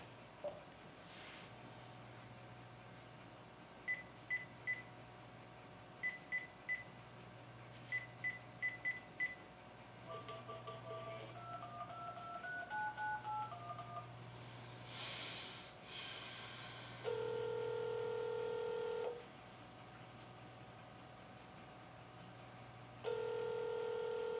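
Quiet touch-tone dialing beeps in short bursts, followed by a steady repeating ringback tone, with faint breathing and background hiss throughout.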